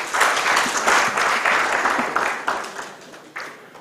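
Audience applause at an ActionAid International Uganda event, a loud burst of many hands clapping that swells quickly and then slowly tapers off with scattered final claps.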